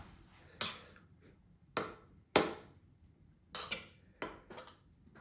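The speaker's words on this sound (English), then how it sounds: "Now let me mix it in." Pesto chicken wrap ingredients being mixed in a bowl: a handful of sharp clinks and knocks of a utensil against the bowl, spaced irregularly, close and fairly crisp, with quiet gaps between.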